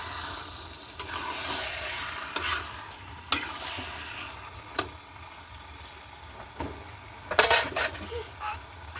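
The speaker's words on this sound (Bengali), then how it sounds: "এবার আরেকটু কষানোর সময় পেঁয়াজ দিয়ে দেবো, কষানো পেঁয়াজ" Onions sautéing in a pan for chicken biryani after tomatoes go in, a low steady sizzle broken by sharp clanks and scrapes of a utensil against the pan at irregular moments, close and with no speech.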